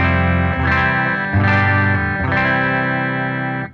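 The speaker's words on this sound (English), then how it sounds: "This is the guitar and the amp." Electric guitar played through an amplifier, set to the player's clean sound, before any pedal is engaged. Three sustained strummed chords ring out loud and full, each with a fresh attack, and no voice is heard.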